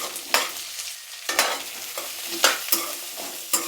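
Thick-cut onions with cumin frying in a pan for paneer butter masala, a steady sizzle broken by about six scraping stirs, close and clear with no talk.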